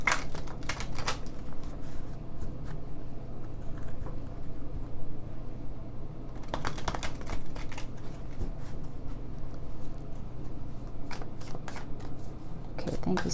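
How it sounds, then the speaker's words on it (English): Tarot cards are shuffled by hand in a continuous papery riffle with bursts of sharper flicks, close to the mic and moderately quiet, steady throughout. "Let's shuffle some more for Libra."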